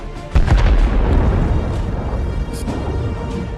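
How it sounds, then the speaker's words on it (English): An FPV drone detonates in a large explosion: a sudden loud boom followed by a long rumbling roar that slowly fades, with no voices. "these explosions just at the beginning of this video are way, way bigger than the usual drone explosions"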